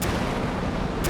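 Harpoon anti-ship missiles launching from the Iowa battleship in the Sea Power naval combat game, a loud continuous broadband roar filling the whole clip with a sharp burst at the very end.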